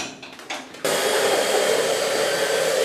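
A hand-held hair dryer switches on with a sudden steady, loud rush of air and keeps blowing evenly, drying and shaping freshly cut short blonde hair in a salon after a few softer handling sounds.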